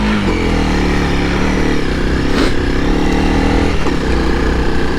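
A Honda CRF300L dirt bike engine roars steadily up close off-road, its pitch rising and falling slightly as the rider works the throttle, loud throughout.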